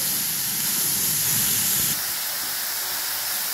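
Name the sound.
carrots roasting in ghee for gajar halwa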